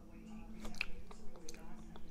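Crunchy flapjack being bitten and chewed up close, a few soft crackling crunches at a close, quiet level.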